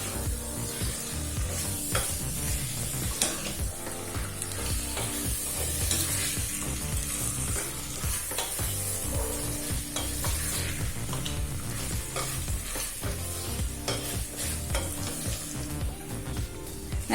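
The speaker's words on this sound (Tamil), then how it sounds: "அடுத்து 1/2 கிலோ சிக்கன் சேர்த்துக்கலாம். சிக்கனை நல்லா வதக்கிக்கலாங்க." Half a kilo of chicken pieces sizzles steadily in a pressure cooker while being sautéed, with continuous close frying and occasional scrapes of stirring, no voices.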